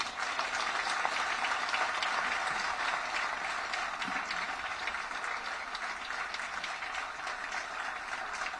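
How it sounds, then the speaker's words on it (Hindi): Dense, sustained applause from a large crowd at a BJP political rally in Rajasthan, with steady, loud clapping for the whole stretch and no clear pauses. "तालियां जोरदार नहीं थी तो नड्डा जी के स्वागत में जोरदार तालियां होनी चाहिए"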